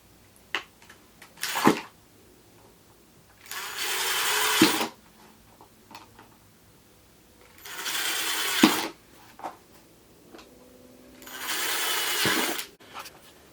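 A power drill whirs in three separate bursts of a couple of seconds each, drilling holes for a chick brooder, with clicks and handling knocks in the quiet gaps between.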